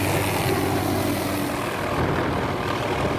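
A helicopter carrying a Sumatran tiger for release into Gunung Leuser National Park drones loudly and steadily, its rotor and engine roar filling the whole stretch without a break.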